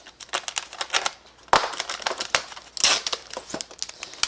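A battery charger being ripped out of its plastic packaging during an unboxing, giving close, loud crinkling and tearing of plastic in irregular bursts with sharp snaps, and no talking.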